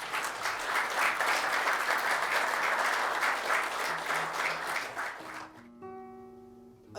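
Audience applause at a presidential event on Slovenian-Israeli friendship in Metlika, a dense sustained clapping from many hands that fades out after about five seconds, then gives way to tonal music.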